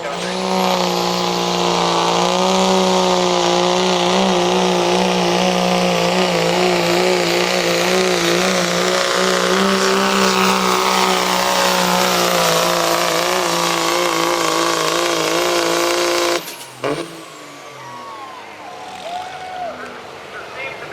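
A diesel Chevy truck at a diesel powerfest shootout, its engine roaring loud and sustained at high revs for about sixteen seconds, then cutting sharply to a quieter idle and crowd ambience.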